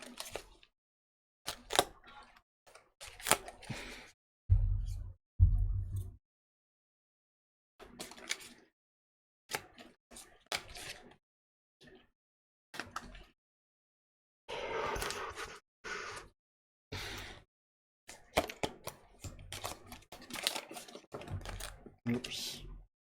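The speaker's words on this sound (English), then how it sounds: "so let me just shuffle and then we'll get to the reading." Tarot cards are shuffled in short, crisp bursts of riffling and tapping, separated by pauses, close to the microphone, with a few low thuds along the way.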